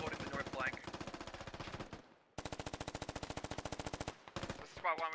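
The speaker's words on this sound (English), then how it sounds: "Oh, he takes some shots." Rapid automatic gunfire from the military shooter game Squad rattles out in two long sustained bursts separated by a brief gap, loud and close, with a short sharper burst at the end.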